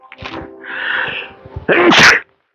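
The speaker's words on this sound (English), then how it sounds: "I don't know where the sneeze is coming from today." A single loud sneeze with a sharp inhale building up to an explosive burst, close by and on its own.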